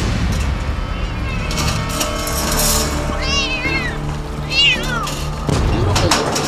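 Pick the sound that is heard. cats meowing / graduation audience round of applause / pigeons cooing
cats meowing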